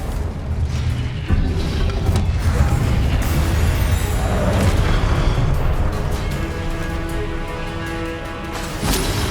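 Repeated Confringo spell blasts from the video game Hogwarts Legacy, a dense run of loud booming explosions and crackling bursts that carry on without a break, with no talk over them.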